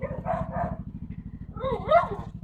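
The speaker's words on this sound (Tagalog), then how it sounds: "ang ingay ng mga alaga naming aso" Pet dogs at a home bark in short yappy bursts, a couple of quick barks then a longer whining yelp, close by over a steady low rumbling engine idle.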